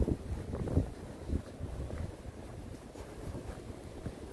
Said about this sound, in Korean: 파도가 많이 치고 있습니다